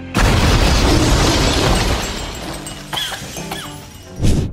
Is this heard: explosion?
yes